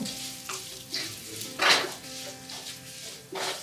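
Ingredients frying in a pan for Iyengar-style pineapple gojju, roasting until golden, with a soft ongoing sizzle and a few stirring clinks rising in brief bursts.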